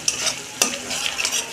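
Spiced cauliflower curry with Kashmiri chili powder is sautéed in a pan, a close sizzle broken by sharp scraping stirs of a spoon, loud and without voices.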